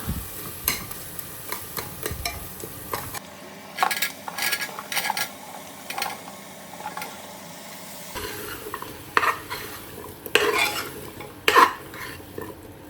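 Mixed vegetables sautéing in a pan over tomatoes cooked down for a pressure-cooker veg biryani, with scraping stirs and metallic clinks of a spoon against the pot over a soft sizzle, closer and busier at the start and end.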